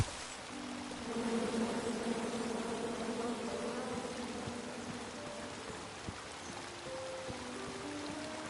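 Angry bees in a PS4 video game form a steady buzzing drone with wavering tonal lines, holding at a moderate level throughout against a rushing background hiss.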